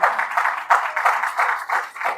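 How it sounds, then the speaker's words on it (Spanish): Congregation applauding during a church service, a burst of clapping rising and falling in uneven waves for a couple of seconds, fairly close and without talk. "Un aplauso al cielo."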